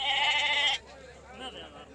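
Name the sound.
sheep bleating at livestock market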